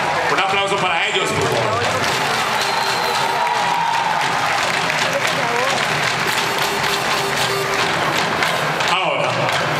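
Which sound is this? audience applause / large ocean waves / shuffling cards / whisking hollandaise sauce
audience applause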